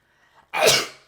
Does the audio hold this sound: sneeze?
yes